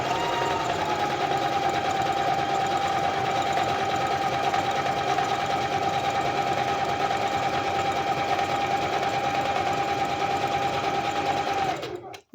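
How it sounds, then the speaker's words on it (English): A Singer Heavy Duty 4452 sewing machine runs continuously at an even pace, a close, whirring motor hum with a rapid needle rattle that stops abruptly at the end. "having a Singer Heavy Duty 4452 does come in handy"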